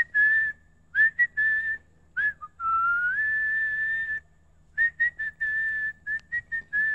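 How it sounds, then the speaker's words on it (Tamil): A man whistles a tune in clear, bright phrases, some held and sliding, others short chirped notes, close and solo against a quiet room. "ஏய் நல்லா விசில் அடிக்கிறாரு."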